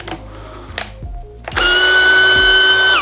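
A SKIL DL6300D-11 12-volt/20-volt cordless flip drill running at first speed with clutch setting 9 drives a screw, a loud steady whining motor hum after a few brief handling clicks and short motor blips.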